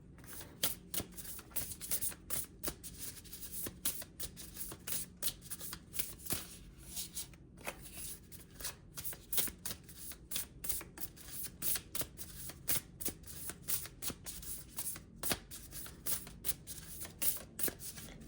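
Tarot cards are shuffled by hand continuously, a steady run of close, crisp riffling flicks and soft slaps with a brief pause, no talking.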